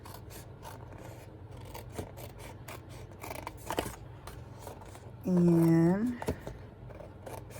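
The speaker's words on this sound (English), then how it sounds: "Let's start cutting. Okay, cut on the score line." Scissors cut along a scored line on cardstock for a Christmas box and ornament, giving a brief, close rasping snip that stands out over quiet talk and handling sounds.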